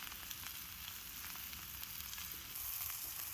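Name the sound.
meat searing over a cooking fire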